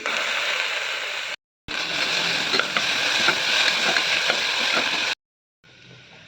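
Onions and curry leaves frying in a pan are stirred, giving a steady, close sizzle with scraping and clinks of the spoon, broken by two short silent gaps and no talk.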